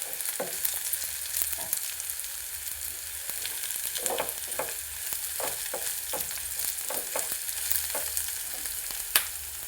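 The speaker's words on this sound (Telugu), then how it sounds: "ఎల్లుల్లిపాయలు టక్కటక్క తేలుతున్నాయండి" Garlic fries in hot oil for a Telugu nalleru chutney, a steady sizzle broken by sharp crackles and pops, close up with no voices.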